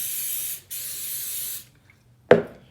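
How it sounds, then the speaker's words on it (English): Two hissing bursts from a coconut oil cooking spray can onto a waffle maker, the first brief and the second longer, then a short pause and a sharp clunk near the end. "I use coconut oil spray, and I'll spray my waffle maker"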